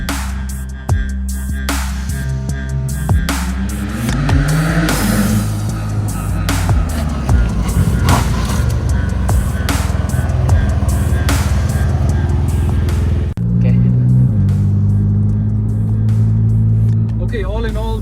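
A Porsche fitted with upgraded performance brakes on a test drive, its engine droning steadily close up with rising and falling revs through the run, occasional thumps and a voice talking over parts of it.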